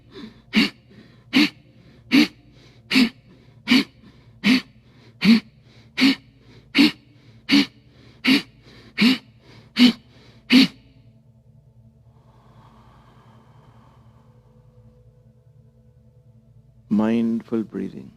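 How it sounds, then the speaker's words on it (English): Pranayama breathing practice: thirteen sharp, forceful exhalations in a steady rhythm, one about every three-quarters of a second, close to the mic. A quiet pause follows, then a voice starts speaking at the end. "Mindful breathing."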